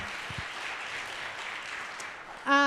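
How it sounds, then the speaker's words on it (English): A congregation at a service gives a round of applause: soft, even clapping that holds for a little over two seconds before a speaking voice cuts in close and louder. "Can you guys help me give them one more round of applause?"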